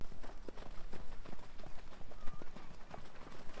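Horses trot on a beach at Trouville, their hooves clip-clopping in a quick irregular rhythm of overlapping beats at moderate distance, with faint background sounds.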